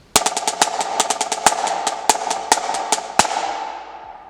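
Marching snare drum plays slow 5-stroke rolls with accents on the right hand, crisp strokes in quick clustered bursts punctuated by sharp accented hits, close and loud with no talking.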